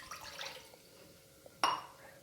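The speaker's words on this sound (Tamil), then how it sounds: "ஒரு கிளாஸ் தண்ணி ஊற்றிக்கிறலாம்." A glass of water poured into a pan on the stove for tomato halwa, a faint liquid trickle followed by a sudden brighter splash and clink near the end, with low kitchen background.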